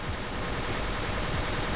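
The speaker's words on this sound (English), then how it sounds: "As you can see, Rowan is already shooting" Rapid gunfire in the video game Ace of Spades, a dense, continuous stream of repeated shots fired in quick succession, loud and close with no talking.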